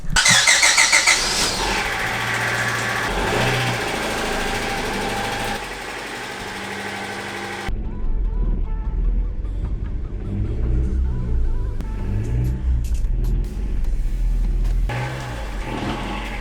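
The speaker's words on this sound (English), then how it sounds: "So we're gonna flip the car around and then be right back." A Honda Civic hatchback engine cranks and catches, then idles and revs as the car moves off, close by with no talking.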